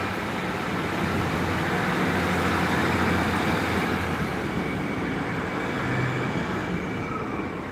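Class 153 diesel railcar passing at Gloucester with a rattly sound, a continuous loud rumbling roar of wheels and engine, steady throughout and slowly easing at the end.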